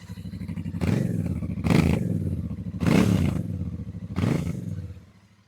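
A Royal Enfield Bear 650 twin-cylinder scrambler with a single integrated exhaust pipe, revved in four loud, close bursts that rise over a steady idle with a sporty note and then fade as the throttle closes.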